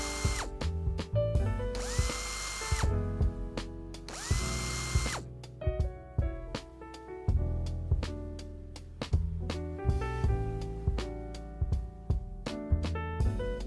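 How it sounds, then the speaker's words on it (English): A power tool removes the four bolts holding the shifter assembly of a 2019-or-later Hyundai Veloster N. Two loud, whirring bursts of a couple of seconds each play over steady background music with clicks and taps in between. "Remove the 4 bolts holding the shifter assembly."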